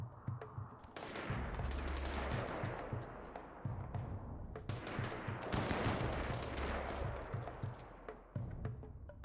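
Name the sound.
gunfire from the video game RimWorld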